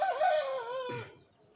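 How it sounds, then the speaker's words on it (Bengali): A young black Bangladeshi Aseel chicken gives a single drawn-out, close, harmonic call that tails off after about a second, heard alone with no talking. "এই হচ্ছে আমার কালো মুরগি বড় বাচ্চাটা"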